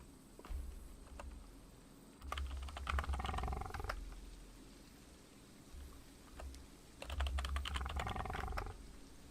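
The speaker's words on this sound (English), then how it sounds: "I wish our typing noise wasn't so loud" Keyboard typing from players during a Roblox Prior Extinction multiplayer livestream, heard as two bursts of rapid clicking over a low, steady rumble, with growl-like game sounds mixed in.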